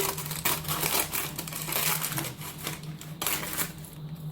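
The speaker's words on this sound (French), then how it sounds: "Je coupe les bords du papier" Aluminium foil being trimmed around a cake tin before baking, giving close, steady crinkling and crackling with repeated sharp cuts over a constant low hum in a kitchen.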